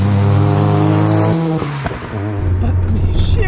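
A 700 hp big single-turbo 13B rotary Mazda FD RX7 drives hard, its engine droning loud and close, then a gear change drops the pitch before the engine pulls back up, with a faint voice underneath.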